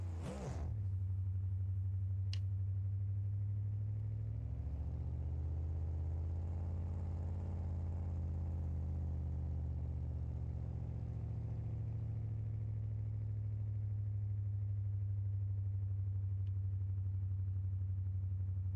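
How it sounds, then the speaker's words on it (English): Engine of a modified Gavril T-Series truck in the video game BeamNG.Drive: a loud, steady, deep droning rumble that swells slightly as it revs and then holds, running alone throughout. "It's such a weird sound coming from a T-Series"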